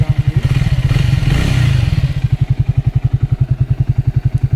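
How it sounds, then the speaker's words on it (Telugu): A Triumph Speed T4 motorcycle engine, a 2025 model, idles loud and close with a rapid, even thumping pulse after a brief surge, with no talk. "ఈ బైక్ సౌండ్ అయితే ఇలా ఉంది."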